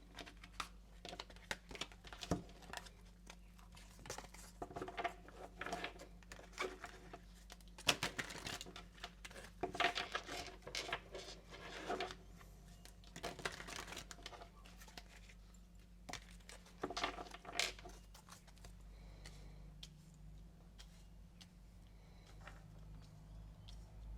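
Tarot cards being shuffled by hand, soft quick riffles and papery crinkling in repeated bursts, close and quiet with no talking.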